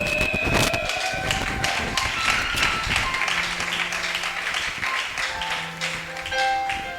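A church congregation cheers and applauds in a dense, continuous crowd roar with scattered sharp claps, and steady sustained tones ring through the noise.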